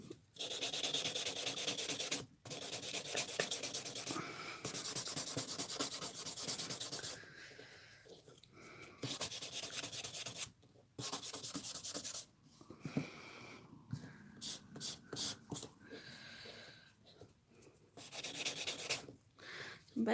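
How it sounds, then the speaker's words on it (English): A nail buffing block rubs back and forth across a fingernail in repeated close, scratchy strokes, some long and some quick short bursts, separated by brief pauses. "So we'll get my buffing block."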